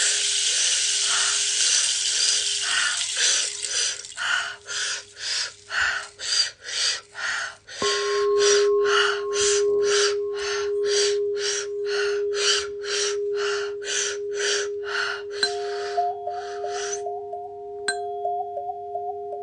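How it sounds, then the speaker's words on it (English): Deep breathwork breathing during a guided meditation: a steady series of rhythmic, hissing breaths repeated close and loud, then slowing into a longer held exhale with faint tonal drone beneath and no talking. "Inhale deep through the nose. Suspend the breath."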